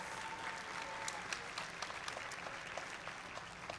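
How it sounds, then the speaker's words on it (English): An audience at a FIRST robotics district event opening ceremony in Albany breaks into sustained applause, a dense, steady wash of many hands clapping with a few sharper individual claps, and no voices. "Can we get a round of applause for y'all's mentors and coaches?"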